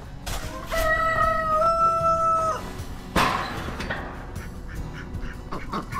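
Farm ducks flapping and calling as they are chased, with a sharp quack-like cry rising for about two seconds, a hard knock or bang, then scattered rustling and shuffling close by.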